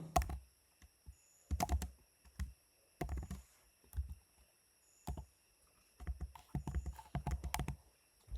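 Someone types code on a computer keyboard in short clusters of crisp key clicks and thumps, close and fairly quiet, with brief pauses between the bursts and no talking.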